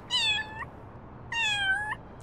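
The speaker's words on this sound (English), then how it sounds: "He said meow meow." Two distinct cat meows from the video game Little Kitty, Big City, clear and close, separated by a short pause over a quiet background.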